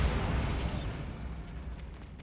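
A Bombarda blasting spell explodes in Hogwarts Legacy, a loud broad burst at the start that decays into a rumbling tail over about two seconds.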